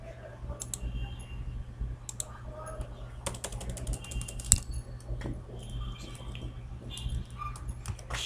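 Computer keyboard typing while entering titles in an Excel spreadsheet: a stream of close, irregular key clicks and taps over a steady low hum, without talk.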